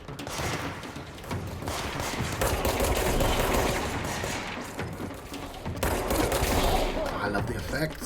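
Gunfire in the video game Control: dense, sustained bursts of weapon fire with heavy booms, continuous and loud across the whole stretch with a brief dip midway.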